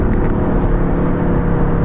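Manual-gearbox Aston Martin AMR with a 510 hp AMG engine accelerating, heard as a loud, steady low engine drone from close by, with no gaps.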